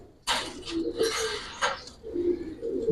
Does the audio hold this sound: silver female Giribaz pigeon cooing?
yes